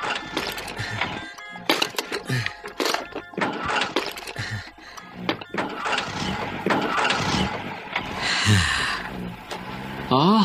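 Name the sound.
old bus engine starting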